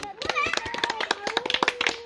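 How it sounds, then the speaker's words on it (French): A small group claps for correct answers at an outdoor family activity, a loose run of distinct close hand claps with a voice calling out over them. "on peut les applaudir"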